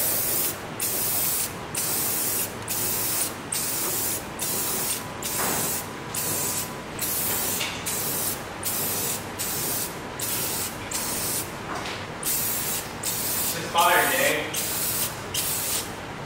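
Aerosol spray paint hissing onto the engine bay of a BMW E30, sprayed in repeated short bursts with brief gaps, steady and fairly close.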